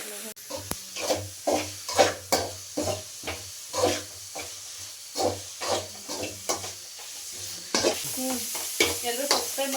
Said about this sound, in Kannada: ಸ್ವಲ್ಪ ಕೊತ್ತಂಬರಿ ಹಾಕಿ ಚೆನ್ನಾಗಿ ಫ್ರೈ ಮಾಡಿ